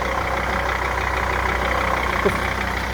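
A 1999-2004 Jeep Grand Cherokee WJ engine idles steadily with a low, even rumble, close by and continuous for the whole stretch, without speech.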